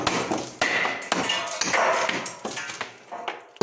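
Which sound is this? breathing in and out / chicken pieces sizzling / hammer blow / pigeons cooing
hammer blow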